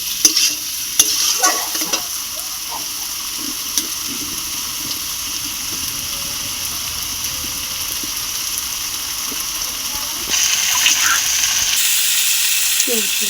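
Masala for a rohu fish curry with potato and eggplant sautés in oil, a low, steady sizzle with scattered spoon scrapes and stirring knocks, then a brighter hiss toward the end.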